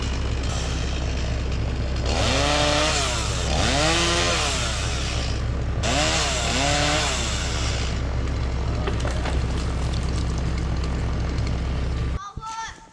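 A chainsaw revs and cuts into wood on a wooded farm property, with repeated rising bursts as the blade bites, steady running between them, loud and close, ending abruptly.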